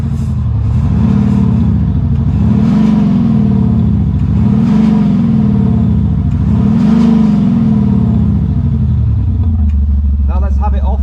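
A Land Rover Defender diesel with a Quicksilver performance exhaust revs hard in repeated deep, throaty bursts, rising and falling several times, loud and close, then settles into a rumbling idle.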